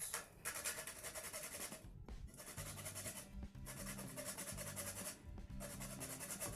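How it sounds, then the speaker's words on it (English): Nutmeg being grated for baking, a close rhythmic rasping scrape in repeated strokes with brief pauses between passes. "So this is almond seed. Now you also grate it into it."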